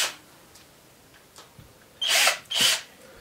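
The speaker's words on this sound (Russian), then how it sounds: "А шуруповерт он всегда нужен." A cheap battery-powered cordless screwdriver drill with plastic housing and a work light gives two short whirring bursts in quick succession, close and fairly loud, with quiet pauses before them.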